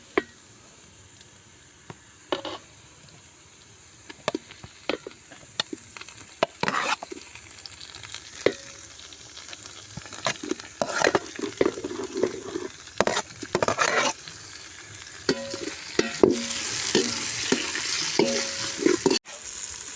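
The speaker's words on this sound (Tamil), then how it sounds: "வெங்காயம் நல்லா வதங்கிடுச்சு அடுத்து நம்ம தக்காளி சேர்த்துக்கிற வேண்டியதும்" Onions and tomatoes sauté in a pan for a home-style chicken biryani, with frequent stirring scrapes and clanks over a steady sizzle that grows busier toward the end, heard close and without talk.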